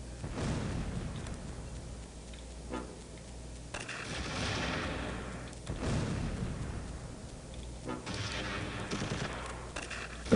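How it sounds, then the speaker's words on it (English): Area fire rattles across the battlefield in Close Combat - Cross of Iron at Stalingrad, with bursts of gunfire and booming explosions coming in uneven waves, moderately loud against a low rumbling backdrop and no voices. "We're just going to lay down some arbitrary fire, area fire."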